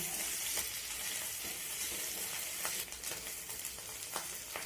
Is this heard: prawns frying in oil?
yes